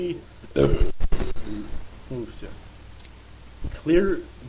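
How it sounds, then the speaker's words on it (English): A person belches loudly several times, with deep guttural croaks in short bursts, some of them overlapping with noise. "belches"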